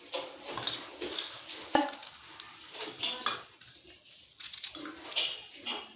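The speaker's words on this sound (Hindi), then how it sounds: "अब हम लहसुन अदरक को कूट लेते हैं" Garlic and ginger are pounded by hand in a home kitchen, irregular thuds and clinks of a pestle against a hard vessel spaced about a second apart, with a sharp louder knock partway through, fairly close.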